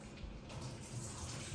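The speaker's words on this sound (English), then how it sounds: "I'm gonna pour some of this water out because I wanted to add some more ice." Water poured out of a flower vase to make room for more ice, a steady splashing, trickling stream running continuously and close by with no talk.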